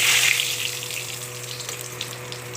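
Meat coated in oil sizzles in a hot pan with cardamom, cinnamon and bay leaf, a dense, hissing fry that starts loudest and settles into a steady crackle with a faint mechanical hum beneath.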